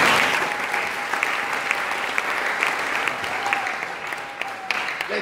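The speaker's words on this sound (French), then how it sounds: "Est-ce qu'on peut acclamer très fort pour ça?" A church congregation bursts into loud, sustained applause. Dense clapping from many hands fills the room evenly from start to finish.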